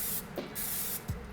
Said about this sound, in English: When I'm cooking on a diet, I like to use a fat-free cooking spray